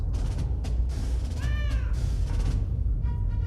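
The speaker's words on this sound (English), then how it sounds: "I can pick up the cat." A cat meows once in the video game Iron Nest, a short rising-and-falling cry heard close and fairly clear over a steady low background hum, with no talking.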